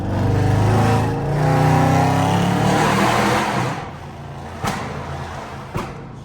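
A powerful 5.7-litre Jeep V8 roars loudly for several seconds with rising revs, echoing inside a tunnel, then fades, followed by two short sharp pops.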